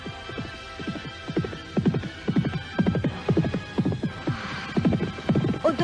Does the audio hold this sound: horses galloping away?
yes